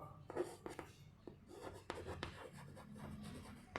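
Pen writing a probability formula on paper, with scratchy strokes and taps coming in short bursts across the clip at close range, quiet, with faint low voice-like murmur underneath.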